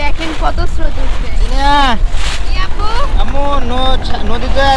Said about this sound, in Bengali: নদীর পানিতে অনেক স্রোত জোয়ারের কারণে আগের ভিতর দিয়ে আমাদের নৌকাটা যাচ্ছে